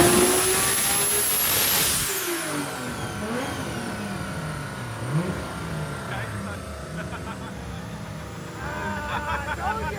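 A Nissan RB26 engine on a dyno screams through a long high-rpm pull, the revs sweeping up and down with a turbo-like whine, followed by loud idling and throttle blips while people shout nearby.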